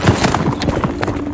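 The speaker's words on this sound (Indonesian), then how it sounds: "Harlan dengan sengaja membuat kuda Lucas yang lemah ketakutan" Horse hooves clopping in a quick, uneven rhythm over a rough, noisy background, brief and fairly close, with no clear whinny.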